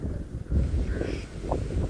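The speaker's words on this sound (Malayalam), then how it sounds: "ഭയങ്കര കാറ്റാണ്." Strong wind rushes and buffets against the microphone in gusty, rumbling bursts, close and fairly loud, with no voices.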